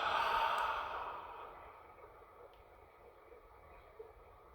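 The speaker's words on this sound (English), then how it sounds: "And exhale." A long, soft exhaled breath during a yoga session, loudest at the start and fading gradually into quiet, with no words.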